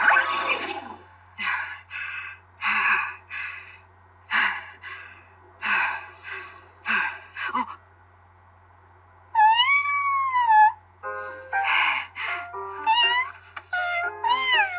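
Several short voiced bursts in a row, then a pause, followed by high, bending meow-like calls, probably a person imitating a cat in a Destiny Child animation, close and clear.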